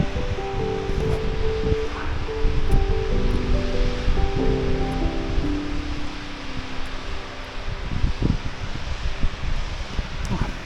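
A waterfall on the Cape Wrath Trail near Glomach Falls gives off a continuous broad rushing roar, close and loud, with gusts of wind buffeting the microphone throughout.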